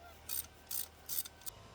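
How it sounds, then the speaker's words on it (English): A hand ratchet works on a spark plug in a Hummer H3 engine, giving four short bursts of quick metallic clicking separated by brief pauses. "Now we're going to take out our spark plug, inspect it, see if anything's wrong with that."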